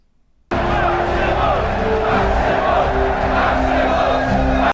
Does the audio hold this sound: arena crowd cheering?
yes